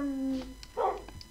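A small blue-collared Minecraft dog gives a single short bark, brief and moderately loud, following a tonal chime, with faint voice nearby.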